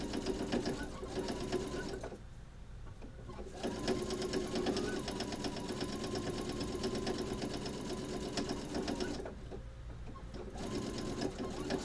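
Sewing machine stitching a rolled hem, a close, steady mechanical whirr in long runs broken by two short pauses, with a voice faintly talking along.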